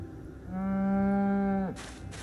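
A cow in the video game Final Fantasy VII Rebirth gives one long, loud, steady moo lasting over a second, close up and clear, with nobody talking over it.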